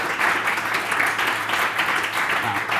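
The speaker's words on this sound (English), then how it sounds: "Can we get a round of applause for that, guys?" Audience clapping fills the room at a coffee house music session, a dense, steady patter of many hands holding at a fairly even level from start to finish, with no talking over it.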